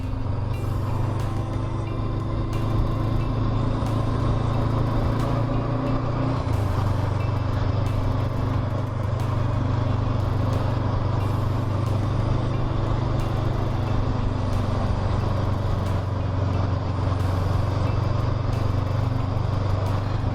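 A Honda CB500X motorcycle cruises along Highland single-track roads, its engine droning steadily with a brief drop in pitch as it shifts, under constant wind rush throughout.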